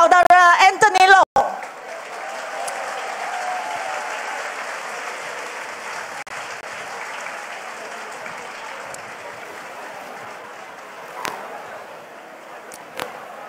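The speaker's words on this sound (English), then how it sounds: "let's welcome a round of applause to our new Secretary General, Saudara Anthony Loh." A political gathering in Selangor gives a steady round of applause welcoming the new Secretary General. It starts after a brief spoken moment and carries on evenly at moderate volume, with a couple of sharp knocks late on.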